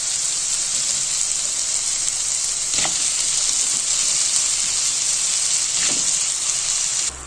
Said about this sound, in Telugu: ఇప్పుడు ఈ బెండకాయ ముక్కల్ని మనం దాని తాలింపులో వేసేసుకుందాం.